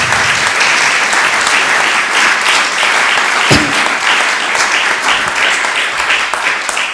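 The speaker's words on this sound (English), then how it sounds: "Can we give a big round of applause?" An audience at a parish church presentation claps in a steady, dense burst of applause, loud and continuous, with no pauses.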